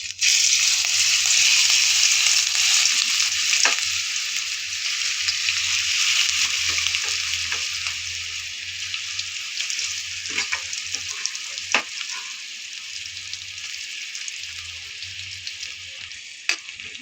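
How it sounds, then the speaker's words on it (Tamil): Prawns fry in hot oil in a pan, a loud, bright continuous sizzle that gradually settles, with occasional sharp pops and utensil clicks near the end and no talking. "இப்போ இறாலை ஒன்று போட்டு பொரிச்சு எடுத்துக்கிறோம்."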